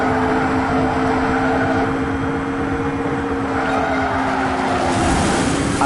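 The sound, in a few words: electric race cars driving in video game Xenon Racer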